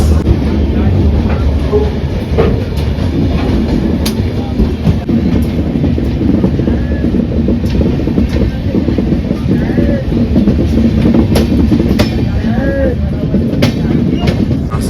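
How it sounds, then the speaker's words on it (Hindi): The Gatimaan Express passes on the main line at Mathura with a loud, continuous rumble close by, overlaid with rhythmic wheel clatter and rail clicks throughout. "भाई गतिमान का यहाँ स्टॉपेज नहीं होता मथुरा में, यहाँ रुकेगी नहीं है, ये मेन लाइन से निकलेगी।"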